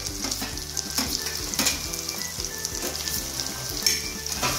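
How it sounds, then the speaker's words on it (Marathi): Curry leaves and potatoes fry in a pan for a potato-cauliflower dish, a steady close sizzle with scattered crackles and light stirring throughout. "याला पण थोडंसं फ्राय करून घ्या"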